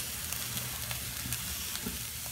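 Onions, garlic and chili sizzling in oil in a pan, a steady hiss and crackle throughout with faint stirring touches, close and fairly quiet.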